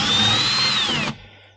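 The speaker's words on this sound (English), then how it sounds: "Sometimes it's easier just to put your bit on a small drill if you've got the bits that fit, and just unspin them" A small handheld power drill spins bolts loose during outboard boat motor maintenance, giving one steady high whine for about a second before cutting off abruptly, close and loud.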